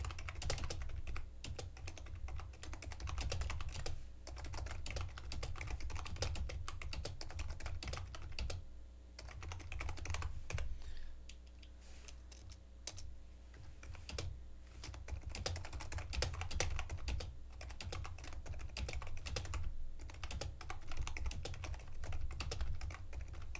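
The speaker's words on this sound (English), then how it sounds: "I'm just typing this up real quick" Steady, continuous typing on a computer keyboard, dense rapid key clicks at moderate loudness over a low background hum, with no talk.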